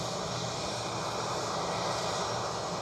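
A JetBlue airliner at Edinburgh airport produces a steady, loud broadband engine roar that holds evenly throughout without pause.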